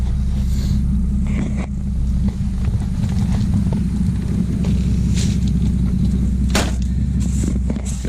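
A car's dual exhaust revs up to about 4,000 RPM, a steady, loud low rumble holding throughout with a few faint higher clicks and noises over it, no voices.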